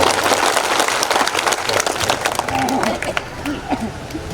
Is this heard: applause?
yes